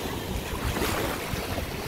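Sea waves wash onto a beach in Tunisia, a steady, close, broadband rush of surf mixed with wind buffeting the microphone, with no voices.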